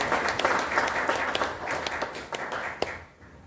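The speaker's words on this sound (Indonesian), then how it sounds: "kita berikan aplaus dulu" Audience applause at a village head campaign event, a dense steady clatter of many hands clapping for about three seconds before fading out.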